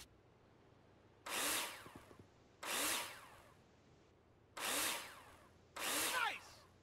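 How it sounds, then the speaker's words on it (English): A power drill drives screws into plasterboard in Builder Simulator, four separate whirring bursts of about a second each, separated by short quiet gaps. "Take your drill out and screw them in."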